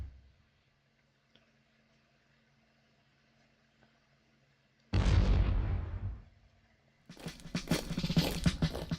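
Howitzer artillery fire in a video game battle, two heavy booming blasts a couple of seconds apart, the first a big low thud with a fading tail, the second a rougher crackling burst, both loud and close after near silence.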